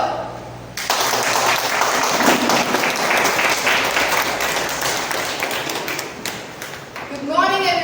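A Toastmasters club meeting breaks into a loud, sustained round of applause from the room, dense clapping that carries on for several seconds before tapering, with a voice starting to speak at the very end.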